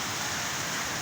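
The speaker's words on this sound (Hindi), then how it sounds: "बहुत स्पीड से बारिश हो रही है और आवाज़ें भी आप सुन ही रहे होंगे।" Heavy rain pours down in Karachi, a dense, loud, steady hiss of downpour with no breaks.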